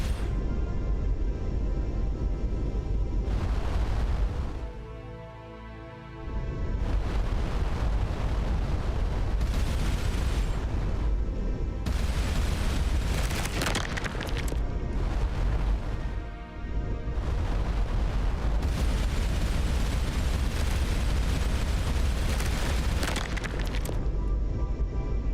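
Rapid, sustained spaceship weapon fire in the space game Starcom: Unknown Space, a dense continuous barrage of booming blasts with brief lulls near five and sixteen seconds, loud and unbroken with no talking.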